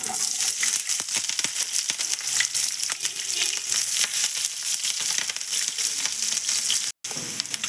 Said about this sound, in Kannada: ಎಣ್ಣೆಗೆ ಉದ್ದುದ್ದು ಕಟ್ ಮಾಡ್ಕೊಂಡಿರೋ ಹಸಿಮೆಣಸಿಕಾಯಿ ಮತ್ತು ಈರುಳ್ಳಿ ಹಾಕೋತಾ ಇದ್ದೀನಿ